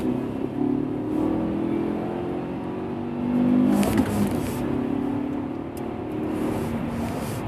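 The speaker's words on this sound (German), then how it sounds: "Ich kupple sauber ein, erhöhe die Startdrehzahl und ziehe dann durch." A car launching hard from a standstill at raised start revs and pulling through the gears with shifts near 6000 rpm. The engine drone climbs steadily with a brief break at a shift, sustained and close throughout.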